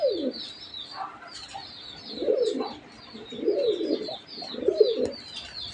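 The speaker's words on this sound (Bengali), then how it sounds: "আমি আসলে কবুতর দুইটা আপনাদেরকে রুমে দেখাচ্ছি।" Pigeons indoors cooing in a room, several low, throaty coos repeating in a slow rhythm at close range, with faint higher chirps and rustles in between.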